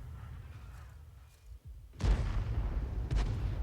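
A tank cannon fires a shell in a tank battle game, a deep booming blast landing midway through and rolling into a low rumble, with a second, softer thud shortly after against steady engine drone.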